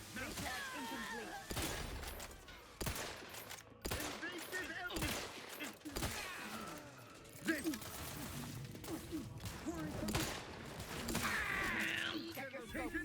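Gunfire in The Outer Worlds 2, a run of fairly quiet, dense bursts and mechanical clatter mixed with in-game voice lines and effects, all at a low overall level.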